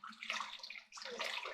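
Water poured into a gold panning pan, a broad splashing wash in two bursts with a brief gap between, close and steady with no talking.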